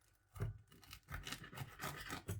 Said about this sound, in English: let's just cut into this fish